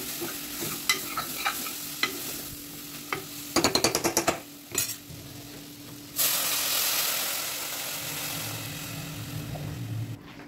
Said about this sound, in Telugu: దీనిలో సాంబార్ పొడి ఒక స్పూను, కారం ఒక స్పూను వేసుకొని మరికొంచెం సేపు ఫ్రై చేసుకోవాలి.